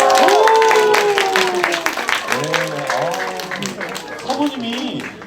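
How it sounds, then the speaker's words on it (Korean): A church congregation clapping, a lively burst of applause with cheering that tapers off over a few seconds while several people talk and call out over it. "우리 박수."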